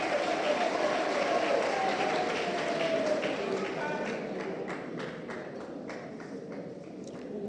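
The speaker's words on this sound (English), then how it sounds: "Let's give him a round of applause." A crowd applauds at a civil society press event on a voter register controversy, sustained clapping that starts loud and slowly thins, with scattered distinct claps and faint talk beneath.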